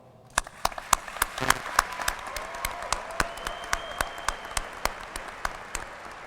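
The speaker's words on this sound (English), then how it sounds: "show how much you appreciate all they've done for you with a loud round of applause" A high school graduation audience applauds in a sparse, rhythmic pattern, with sharp individual claps spaced steadily over a soft crowd murmur.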